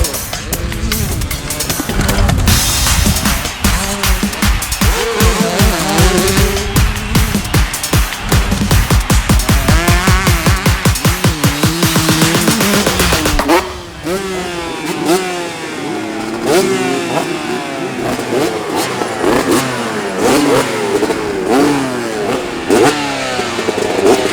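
Two-stroke motocross bikes such as 125 and 250 models at a training day rev hard, a loud buzzing engine rising and falling in quick bursts, then more distant bikes passing and revving with faint voices underneath.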